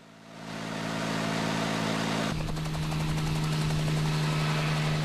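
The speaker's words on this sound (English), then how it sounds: "we take to the air in a helicopter" Helicopter flying over northern Australian country between Karumba and Darwin, a loud continuous rotor drone with rapid blade chop that builds in the first half second and holds steady, with a tone shift partway through.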